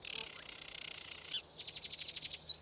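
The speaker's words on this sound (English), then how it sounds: "小鸟们叫得多开心啊！" Small birds chirping in the wild panda habitat, a sustained high trill followed by a quick run of about ten bright rhythmic chirps, clear and fairly close with no talking.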